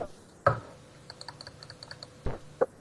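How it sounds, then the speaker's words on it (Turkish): A short run of small, faint computer mouse clicks comes during a Minecraft Hunger Games session, ticking in quick succession between a couple of louder thumps, with no speech. "Fare tıklama sesi geldi de"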